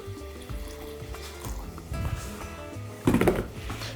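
A small amount of boiled water is poured into a salad dressing of lemon juice and honey for a beef and eggplant salad. The short liquid pour grows louder near the end over a quiet background.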